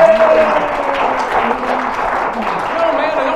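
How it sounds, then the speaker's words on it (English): Audience applause at a live Friday night show, sustained clapping from a crowd with a voice talking over it throughout. "I'll give everyone some more applause."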